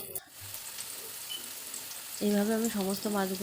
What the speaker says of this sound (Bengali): এইভাবে আমি সমস্ত মাছগুলো ভেজে নিলাম।